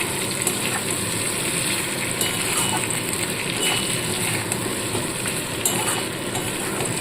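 Fried chicken is stirred through onion, ginger and garlic in a hot pan for garlic malai chicken, giving a steady loud sizzle and frying hiss with soft scraping stirs throughout.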